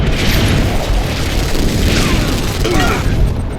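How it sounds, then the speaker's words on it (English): A Tiberium explosion in Command & Conquer 3: Kane's Wrath booms as a loud, dense, sustained rumble, with no gaps, filling the whole stretch with heavy low-end roar and crackling debris. "Tiberium explosion detected"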